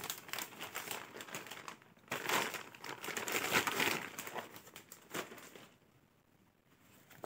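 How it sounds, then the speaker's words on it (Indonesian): Plastic zip packaging around a lightweight EVA outdoor sandal is opened and handled, producing close, bursty crinkling and rustling that swells and fades before settling into quiet. "kalau kita lihat bungkusnya pakai model plastik zip"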